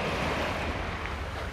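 Sea waves at sunset on calm water wash in a steady, broad rush of surf with wind noise on the microphone, continuous and fairly close with no voices.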